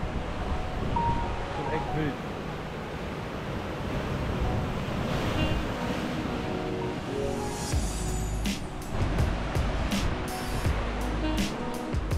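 Ocean surf breaks and washes on the shore at Papaoneone on Oahu, Hawaii, with a constant roar mixed with wind buffeting the microphone and a person talking over it.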